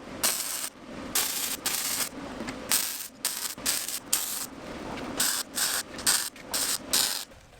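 Short and long bursts of crackling, hissing arc welding as a plate is welded onto a steel welding table, close and fairly loud, separated by brief pauses.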